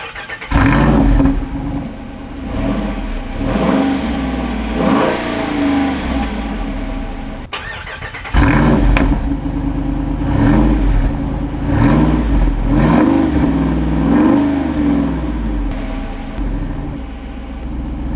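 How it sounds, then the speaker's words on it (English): A Jeep Wrangler Rubicon 392 V8 revs repeatedly through a loud, rumbling active exhaust, one run of revs in normal mode, a brief pause, then a second louder, throatier run in sport mode. "Take a listen to the active exhaust in its normal mode and then in its sport mode."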